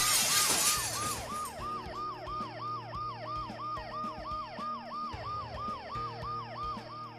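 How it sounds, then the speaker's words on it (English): Ambulance siren wailing in a steady, rapid up-and-down cycle in the video game Dead Synchronicity, loud and continuous, following a brief burst of shattering glass at the start. "The noise the ambulance makes will cover the sound of the glass breaking."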